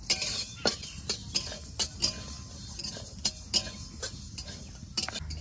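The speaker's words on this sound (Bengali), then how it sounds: "প্রথমে মুগ ডালগুলো ভেজে নেব।" Mung dal lentils dry-roasting in a pan for khichuri, with a spatula giving quiet, irregular clicks and scrapes against the pan over a soft background, no voices.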